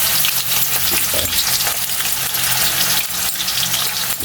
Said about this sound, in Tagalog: ipapride mo natin yung patatas ka na. Papainit tayo mantika, Kylie.